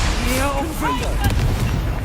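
A Confringo spell explosion in the Hogwarts Legacy video game, a loud, close, roaring blast that fills the moment while a voice speaks over it.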